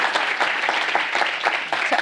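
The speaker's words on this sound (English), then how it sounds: "let's give him a nice round of applause" Audience applause at a fintech conference fills the room, a steady, moderately loud patter of many hands clapping throughout the short stretch.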